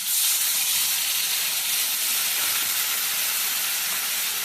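Water poured into a hot pan of hilsa fish and eggplant frying in oil sets off a loud, steady, close steam hiss that holds evenly throughout.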